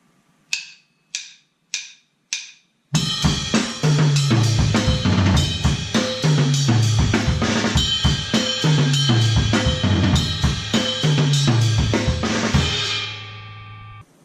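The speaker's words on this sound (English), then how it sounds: "we're actually going to start accenting the bell of the ride on the downbeats" Four sharp clicks count in, then a full drum groove kicks in with ringing, accented ride bell hits on the downbeats over kick, snare and bass, fading at the end.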